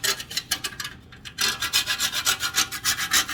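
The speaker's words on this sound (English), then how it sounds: "So here's the nutmeg again. I'm going to scrape it, grater it" Whole nutmeg rasped against a grater, with a close, rhythmic run of dry scraping strokes, a brief pause, then about a dozen steady even strokes.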